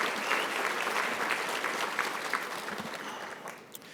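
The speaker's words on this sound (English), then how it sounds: "let's give him a hand clap for that" An audience at an award ceremony claps in a steady, sustained round of applause that fades slightly toward the end.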